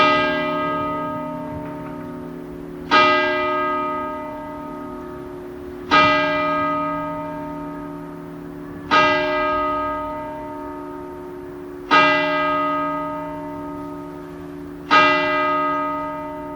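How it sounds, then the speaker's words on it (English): A church bell in Devizes, Wiltshire tolls slowly, one resonant strike about every three seconds, each ringing out with a long humming decay. "and on cue, the church bells"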